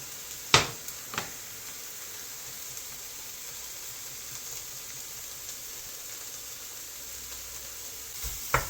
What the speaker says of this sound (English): I'm just searing it off